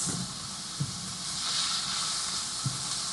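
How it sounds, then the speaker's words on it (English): A steady, bright sizzling hiss of food frying in a pan continues without pause, with a couple of faint soft knocks. "I'm just going to let you all listen to that sizzle."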